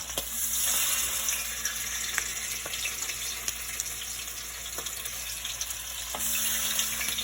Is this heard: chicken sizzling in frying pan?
yes